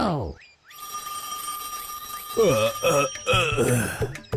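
A telephone rings early in the morning with a sustained electronic tone in a cartoon, then voices break in loudly over it as people start talking.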